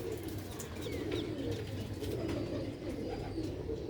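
Old-breed Sialkoti pigeons coo in a low, steady rolling murmur, with a few faint higher chirps drifting in over the soft continuous cooing.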